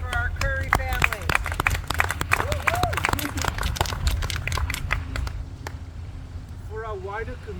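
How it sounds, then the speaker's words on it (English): Outdoor applause for a family at a Habitat for Humanity house groundbreaking, with a small group clapping in crisp, scattered strikes over wind and low rumble, alongside people talking, fading out near the end. "So let's have a round of applause for our Curry family."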